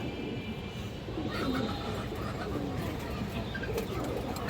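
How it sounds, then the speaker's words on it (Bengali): Soft cooing from a large female pigeon among other birds at a pigeon sale, steady and close, buried in a dense wash of background noise with a faint rumble. "আর একটা মুসলদম মাদি কবুতর আছে বিগ সাইজ।"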